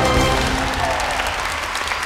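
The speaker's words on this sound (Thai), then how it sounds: "ยืนปรบมือสิครับทุกคน" A Thai television game-show studio audience stands and applauds, a dense, steady wash of clapping that holds at full strength for about two seconds.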